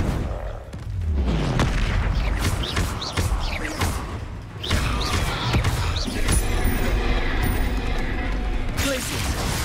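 Bombarda spell explosions in the video game Hogwarts Legacy, heavy booming blasts and thuds repeating over several seconds amid other spell effects, loud and close.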